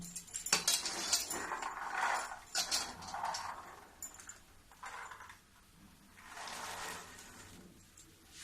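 Dry peas poured by the scoopful into a storage container, a rattling, pattering cascade of small hard grains in several bursts, close and moderately loud, with no talking.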